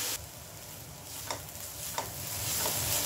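Cabbage thoran cooking in a pan, a soft low sizzle with two or three brief stirring scrapes, fairly quiet overall.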